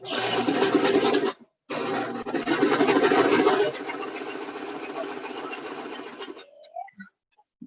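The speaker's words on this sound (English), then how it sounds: "And then backstitch." A sewing machine backstitches a fabric bowl cover, its steady motor whirring loud and close in two runs separated by a brief pause, then dropping to a quieter stitching pass before stopping.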